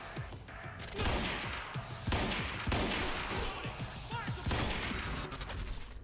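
Rapid bursts of player gunfire from Quantum Break, loud and close, with repeated sharp shots and crashing impacts running through the whole stretch without a break.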